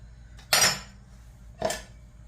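A knife cuts a small avocado in half, two crisp clicks of the blade meeting the board about a second apart, close and quiet otherwise.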